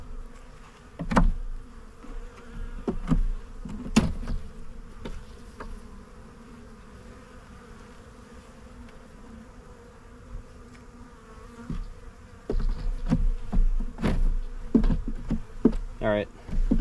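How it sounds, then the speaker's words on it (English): Honey bees buzzing in an opened hive during a spring inspection, a faint steady hum with occasional louder buzzes passing close, plus scattered knocks and clicks of frames being handled. "So the bees that are in here, they're doing something."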